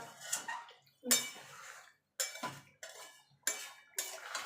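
Metal pot and utensil clinking in bursts while chicken is sautéed with hot water and spices for chicken kosha, several short clattering scrapes separated by brief pauses, fairly close.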